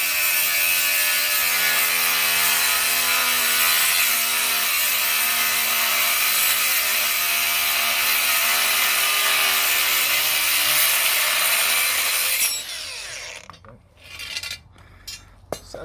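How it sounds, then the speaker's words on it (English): Steel rebar of about 12 to 14 mm is cut to length for drystone walling batter frames, a loud continuous grinding whine with steady ringing tones that cuts off abruptly near the end, leaving a few scrapes and knocks. "We'll just have a look at cutting the rebar."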